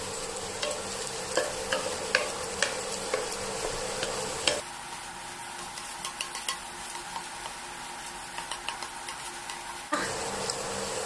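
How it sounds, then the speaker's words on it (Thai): Pork belly stir-fried with chili and salt in a pan, continuous sizzling with regular spatula scrapes and taps against the pan throughout, close and steady. "ผัดรวมกันเลยนะคะ"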